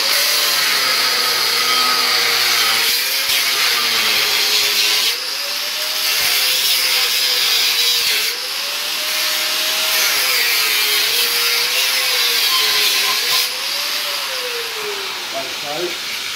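A used cast iron brake disc being cut with a power tool, giving a steady, loud grinding-saw drone throughout that wavers in pitch as the cut proceeds, with someone talking over it.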